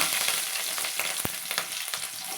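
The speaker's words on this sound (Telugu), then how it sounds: "ఆయిల్ వేడిగయ్యాక జీలకర్ర ఆవాలు కరివేపాకు పచ్చిమిర్చి" Cumin, mustard seeds, curry leaves and green chillies frying in hot oil, a dense close crackling sizzle with sharp pops and spits throughout.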